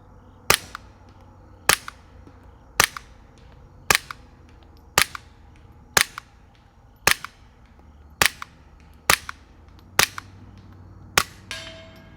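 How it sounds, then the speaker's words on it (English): Eleven sharp, evenly spaced cracks from a Sig 322 rifle, fired unsuppressed and then through an FX-22 Ti suppressor, each crisp and close with a short decay, against a quiet outdoor background. "We'll put 2 rounds down range unsuppressed. Now we got the FX-22 on the end."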